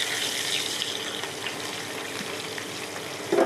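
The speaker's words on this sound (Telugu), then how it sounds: "ఇవి వేగాలి అన్నమాట ఉల్లిపాయ." Small onions with green and dried red chillies frying in a pan for a coconut and chana dal curry, giving a steady, close sizzle that carries on unbroken, with no talk.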